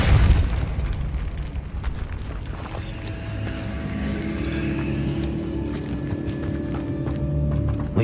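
The Depulso force spell is cast in the video game Hogwarts Legacy, with a heavy booming blast at the start followed by rumbling, clattering game effects and a low sustained ambient tone.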